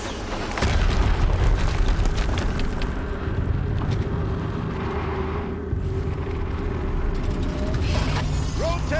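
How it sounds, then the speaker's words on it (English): A loud explosion booms out in the video game Horizon Zero Dawn, followed by heavy rumbling and mechanical clanking that holds for several seconds, with another burst near the end. "Another explosion."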